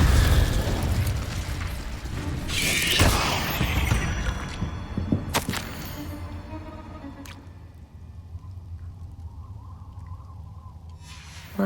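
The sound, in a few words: Incendio fire spell blasts in Hogwarts Legacy video game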